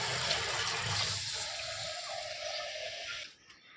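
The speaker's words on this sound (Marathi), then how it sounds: "आपण तिला पहिला वॉश करून घेऊया 2-3 पाण्याने" Moong dal is washed under running water, a soft bright splashing and gushing that runs steadily, then cuts off near the end.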